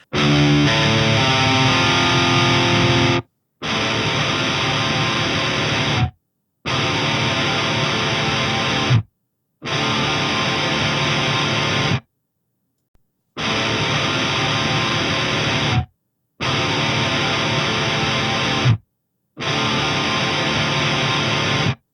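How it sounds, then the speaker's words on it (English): Thick, heavily distorted metal guitar chords layered from four guitars through two amps ring out in seven sustained blocks, each held about two and a half seconds, separated by brief silences, loud and dense. "I've actually got 2 amps going on here and 4 guitars."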